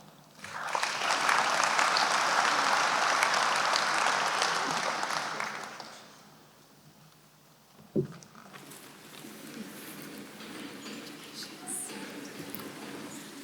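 Graduation ceremony audience applauding, a broad burst of clapping that swells and holds for about five seconds before fading, followed by a sharp thump and a quieter room with faint murmuring.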